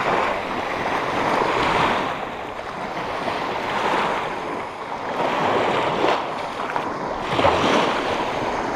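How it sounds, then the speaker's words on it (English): Waves roll onto the Lake Michigan shore in broad rising and falling surges, loud and close, mixed with gusts of wind buffeting the microphone. "We've made it to Lake Michigan. It's really exciting out here. There's lots of waves."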